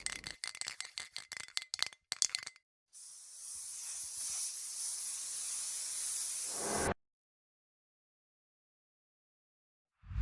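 A spray can rattles in quick shaken bursts, then releases one continuous hissing spray lasting about four seconds to prime a miniature before stopping into silence; a short final noise follows.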